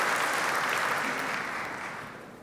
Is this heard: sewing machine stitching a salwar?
no